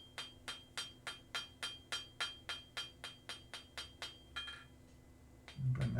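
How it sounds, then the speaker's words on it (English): Hot steel is hammer-forged over the edge of a small anvil, about fifteen bright, ringing blows in a steady quick rhythm, close and clear, then the strikes stop and a low rumble follows. "Now we'll just forge it over the edge of the anvil so you don't keep hitting the anvil."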